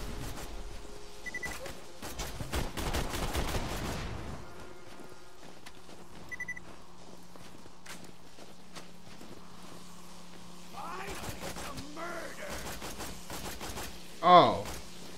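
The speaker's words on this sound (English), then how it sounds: "Where are they shooting me from?" Gunfire in Borderlands 2, with a dense burst of rapid shots in the opening seconds, a single shot later on, and scattered impacts and a sharp crack near the end over a low game background hum.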